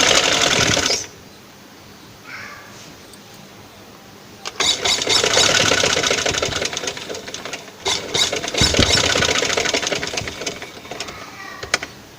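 A sewing machine runs in two bursts of rapid stitching, a short run at the start, then a longer stretch after a quiet pause with faint handling sounds, loud and close with brief stops between runs.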